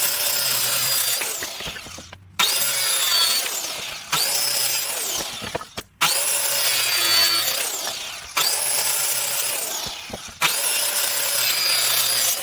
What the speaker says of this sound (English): Go ahead and get your angles cut out first, so go ahead and do that now